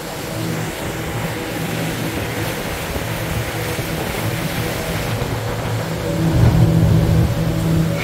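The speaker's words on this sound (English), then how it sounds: "It's the glass bottom boat tour." Steady engine drone and water wash from a glass bottom tour boat on the St. Lawrence River, a continuous rumble close by that swells slightly toward the end.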